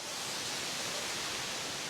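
A waterfall near San Jerónimo, Colombia, pours with a steady, dense hiss of rushing water, even and unbroken throughout, without voices.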